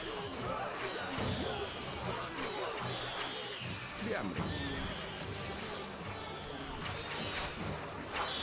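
Horses in the Stronghold: Crusader video game neigh and whinny over a steady clip-clop of galloping hooves, with occasional crashing impacts and a busy, continuous game soundscape beneath.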